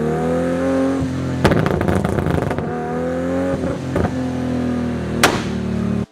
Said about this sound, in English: It's got that signature single turbo 2J sound.